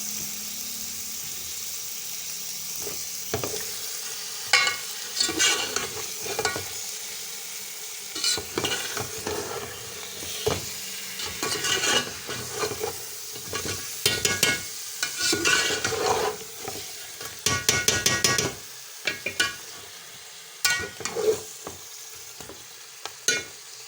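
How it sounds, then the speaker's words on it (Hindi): Fish heads fry in masala in a pan, with steady sizzling under repeated scraping and clattering of a spoon as the mixture is stirred, close up. "इसको 10 से 15 मिनट हम फ्राई करेंगे इसी मसाले में।"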